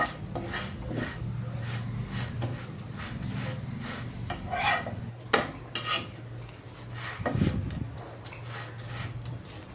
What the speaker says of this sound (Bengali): কি সুন্দর যে একটা ঘ্রাণ আসতেছে ঘি দিয়ে পরোটা ভাজার সময়